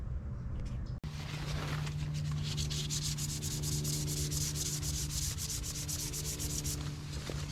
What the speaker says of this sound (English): I'm gonna give it a light sand